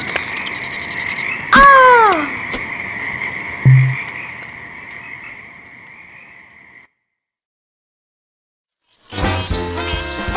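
Cartoonish frog croaks from The Princess and The Frog PC game, a few bright warbling calls over a sustained tone, followed by a short thump, a fade to silence, and a burst of game music near the end.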